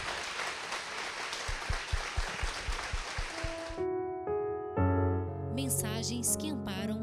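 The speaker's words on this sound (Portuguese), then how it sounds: "Vamos aplaudir a palavra do nosso Deus." A church congregation breaks into sustained applause after a sermon, dense and close, then stops abruptly as a sustained musical passage begins.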